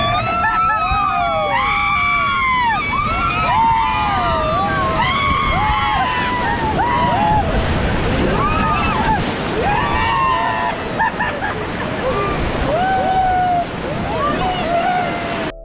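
Rafting through river rapids at Dandeli, with rushing, splashing water and wind throughout, while many people scream and shout excitedly close by.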